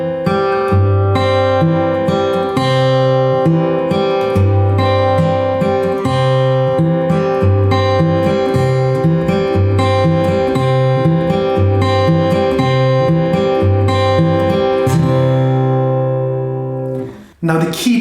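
Steel-string acoustic guitar played in a folk picking pattern, the thumb alternating the bass to the fifth of the chord on the third beat under picked treble notes, steady and loud, ringing out at the end with no talking.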